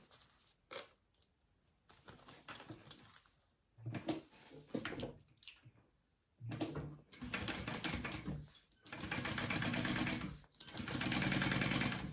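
Short bursts of close sewing machine stitching on bag lining side pieces, stop-and-start at first, then longer continuous runs toward the end, with brief pauses between.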